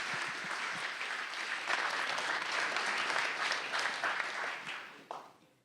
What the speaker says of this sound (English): And a big applause for our speakers at first.